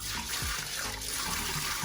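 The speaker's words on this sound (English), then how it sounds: "we're going to pour some water to see if everything goes out okay" Water is poured into a newly installed bathroom sink in a temporary guest bathroom and runs down the drain, giving a steady, close rushing splash with no talking.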